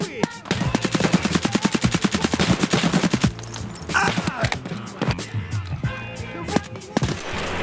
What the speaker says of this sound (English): Alright, I'm getting shot at.